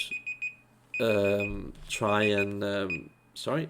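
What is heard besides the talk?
alarm going off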